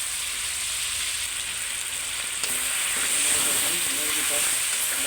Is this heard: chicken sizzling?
yes